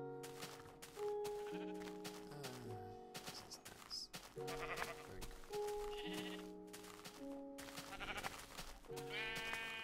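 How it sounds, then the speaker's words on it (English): A Minecraft sheep bleats repeatedly in short, clear calls over steady in-game background music, with no talking. "Hello, Mr. Sheep"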